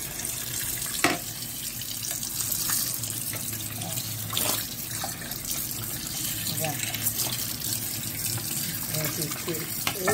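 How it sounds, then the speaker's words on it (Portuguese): Tap water running while a crab carapace is rinsed in a kitchen sink, a continuous close splashing stream broken by occasional louder gushes and clunks, with someone speaking over it. "Agora eu vou lavar essa carapaça, ó."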